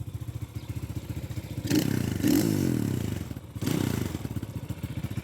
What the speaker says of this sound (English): Yes, Jace, I did let your bike warm up before I revved it.